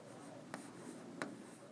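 Pen writing by hand on paper while working through a system of first-degree equations, a quiet steady scratching with two brief louder strokes, heard alone without talk.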